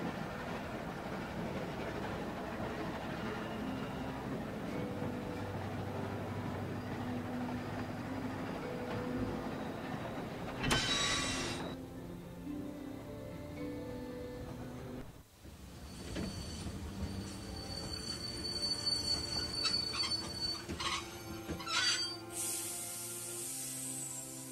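A train rolls along steadily in a video game, its low rumbling run giving way to bursts of high metallic wheel squeal and screeching toward the end, with no talking.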